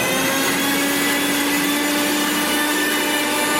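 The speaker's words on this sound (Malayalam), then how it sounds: "ഇനി അതുപോലെ തന്നെ ഇതിനെ നമ്മളൊന്ന് ബ്ലെൻഡ് ചെയ്യണം മിക്സിയിൽ" A mixer grinder blending boiled potato and egg white for mayonnaise, a loud steady high-pitched motor whine running unbroken throughout with no talking.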